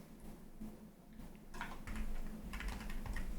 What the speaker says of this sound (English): just keep typing more letters from that final word